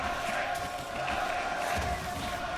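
A live crowd at an LEC League of Legends match between Fnatic and GiantX keeps up a steady roar of cheering in a large arena, with a caster's voice running over it.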